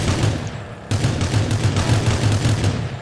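Loud, closely spaced gunshots in a video game, a dense series of booming blasts following a brief lull, with no talking over them.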